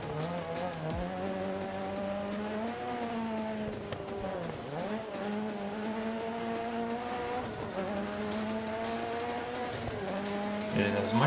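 Ford Escort Monte Carlo rally car in the DiRT Rally video game, driven on a snowy tarmac stage: a steady, loud engine note rising and falling through gear shifts, with tire squeal and skidding throughout.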